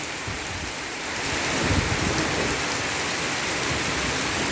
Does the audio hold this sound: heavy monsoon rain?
yes